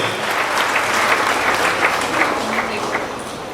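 Audience applause welcoming actor Golden Star Ganesh at a wildlife conservation campaign launch in Dandeli, a full, even burst of clapping from a large crowd, sustained and fairly close.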